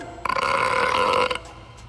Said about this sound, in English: Oh no, it's just a burp.